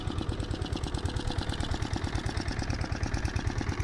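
Motor-driven water pump running steadily while irrigating a mustard field, with a continuous close, loud mechanical chugging throbbing at a fast, even rhythm throughout, and no talking.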